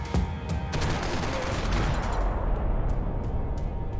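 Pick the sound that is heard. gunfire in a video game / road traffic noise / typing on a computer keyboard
gunfire in a video game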